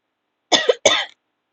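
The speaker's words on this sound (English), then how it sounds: "I have a bit of a cough, so kindly excuse me for that" A lecturer coughs twice in quick succession, close and clear, with a short gap between the two harsh bursts and no talking around them.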